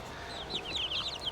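Backyard chickens clucking softly in a short run of quick, chattering calls, fairly faint against a steady background hiss.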